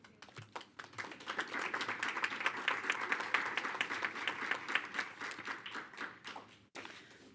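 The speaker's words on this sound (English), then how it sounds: "Our students absolutely deserve the applause." People at a CCSD school board meeting applaud students. The clapping builds from a few scattered claps into a steady round, then stops abruptly, with a few light claps trailing after.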